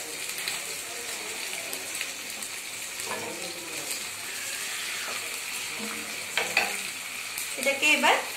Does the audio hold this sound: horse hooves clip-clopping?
no